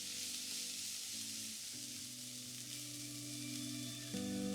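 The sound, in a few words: onions frying in white oil in a frying pan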